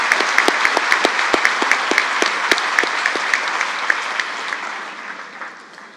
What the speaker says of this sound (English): Let's have one final round of applause for our retirees.